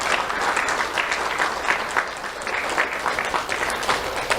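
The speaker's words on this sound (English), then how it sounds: "Let's give them a round of applause." Steady applause from a crowd at an awards event, dense and continuous clapping throughout at a fairly loud, even level.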